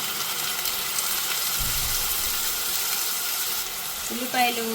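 Onion paste frying in oil in a pan while cooking a cauliflower masala curry, giving a steady, soft sizzle with a brief low rumble midway and a short tonal clink near the end.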